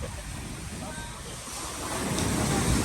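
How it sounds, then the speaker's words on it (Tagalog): Strong ocean waves breaking on the beach in front of a hotel in Boracay, a continuous rushing surf that swells louder toward the end, mixed with wind buffeting the microphone. "Malakas ang alon dito sa harapan ng hotel namin."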